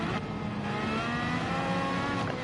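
Honda Formula 1 car engine in the Gran Turismo 7 racing game, a loud, steady, high-pitched whine that holds close and continuous with small shifts in revs, and no voices.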